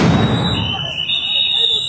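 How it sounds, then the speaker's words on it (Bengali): A sound grenade bursts with a loud, close boom during a street clash between soldiers and protesters in Dhaka, its rumble decaying over a second and leaving a high ringing tone behind. "এই মুহূর্তে কিন্তু কিছুক্ষণ পর পর সাউন্ড গ্রেনেড ছুটছে"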